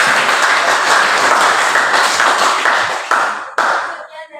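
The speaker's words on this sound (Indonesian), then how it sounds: "Kita beri aplaus untuk kelompok 3." A classroom audience applauds a student group after their teaching presentation, with steady dense clapping that fades out near the end.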